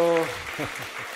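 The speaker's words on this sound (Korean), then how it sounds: "박수로 격려해 주십시오" Brief applause from a church congregation at a Sunday school teacher-blessing service, following a voice at the start and filling the rest of the short moment with a soft, steady patter.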